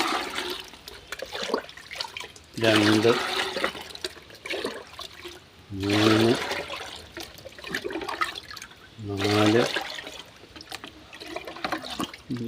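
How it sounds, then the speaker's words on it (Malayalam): Water pours from a cup in three separate splashing bursts a few seconds apart, with a voice counting between pours. "ഇത് 6 കപ്പ് വെള്ളം ഒഴിച്ചിട്ടുണ്ട്"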